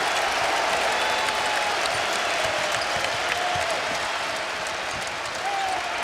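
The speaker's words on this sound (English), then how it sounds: "Now Davison's playing conductor for the crowd" Dense, steady roar of a college basketball arena crowd cheering and applauding throughout a Big Ten men's game between Ohio State and Wisconsin, loud and continuous with faint commentary-like voices underneath.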